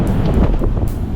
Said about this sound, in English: it's getting cold and windy